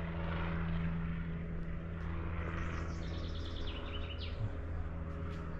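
A helicopter flies overhead on a cycling route through the Silesian countryside, a constant loud rotor and engine drone filling the whole stretch, with birds chirping faintly above it.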